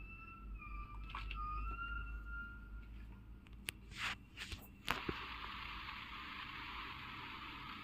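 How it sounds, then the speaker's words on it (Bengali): Ambulance siren on a road at night, wailing tones in the first seconds that fade into the distance, followed by a few sharp knocks and a steady broadband background hiss. "এই যেমন দেখুন, এখন একটা অ্যাম্বুলেন্সের আওয়াজ পাচ্ছি আমি।"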